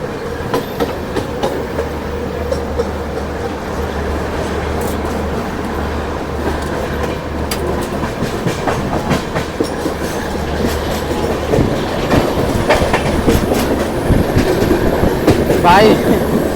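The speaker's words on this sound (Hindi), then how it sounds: "भाई, हमारी ट्रेन चल पड़ी है।" Indian railway train rolling along at a steady pace, a continuous rumble with rhythmic clickety-clack from the carriage wheels, growing slightly louder and busier toward the end, heard from inside with faint squeals.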